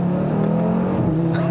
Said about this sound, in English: this is a 5-cylinder engine